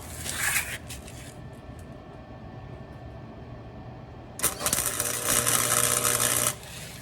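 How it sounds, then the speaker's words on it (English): Tack welds go onto a broken shock mount on a Suzuki Samurai: a brief crackling burst near the start, then a steady hum, then a louder sustained buzzing arc of about two seconds, close and without talk. "it's about to get welded on. Throw a little tack on the bottom."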